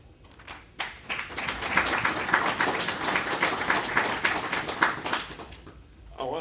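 Audience applause at a CyberCNI session during the European Cyber Week 2022, a dense wash of clapping that swells after a second, holds steady and fades near the end, fairly close.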